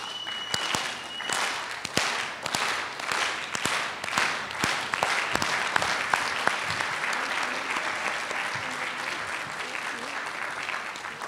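An audience at a Lesbians Who Tech awards event claps to welcome Megan Smith to the stage, starting as distinct slow, sharp claps that quicken and merge into a sustained round of applause.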